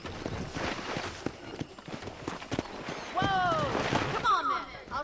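Horse hooves clip-clopping on a ranch in the video game Red Dead Redemption, a quick irregular patter of steps mixed with background sounds and a brief whinny-like tone near the end.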